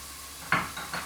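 Scotch bonnet pepper fries with curry and thyme in a pot, heard as three short bursts of sizzle and stirring against a quiet background.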